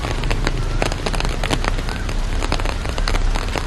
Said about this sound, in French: et là il pleut vraiment beaucoup